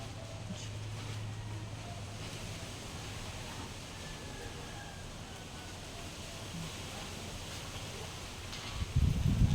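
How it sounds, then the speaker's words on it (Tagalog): Steady broadband wind roar blowing across the microphone throughout, with a low rumble and a sharp gust burst near the end. "Ang lakas ng hangin guys."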